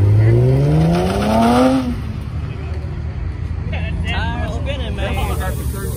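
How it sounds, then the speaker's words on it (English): A car at a car meet and barbecue revs hard with tires spinning, its engine note climbing loudly and then fading, while several people talk and shout nearby. "Tire spinning, man. Tire spinning."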